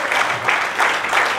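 Applause greets a local corporator arriving on stage at a public event, a continuous wash of clapping from a crowd that swells in waves without pause.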